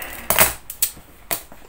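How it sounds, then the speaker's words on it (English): Scissors snap shut through material in three sharp, crisp cuts, the first loudest and longest, close and alone without talk. "Look how flawlessly that cuts."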